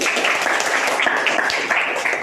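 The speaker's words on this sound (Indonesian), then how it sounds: "Tepuk tangan untuk Pinesta" A classroom of children claps together for a classmate, a dense, steady patter of many small hands sustained throughout at close range, fairly loud and without speech.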